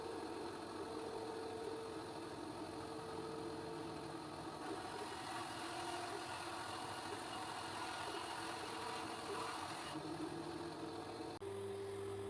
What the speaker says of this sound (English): Then I use a disc sander just to round over all the ends